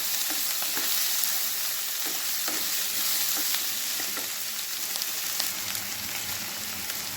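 Finely chopped onions and two green chillies fry in a pan for a bhindi sabzi, with a steady close sizzle and scattered crackles and stirring scrapes throughout.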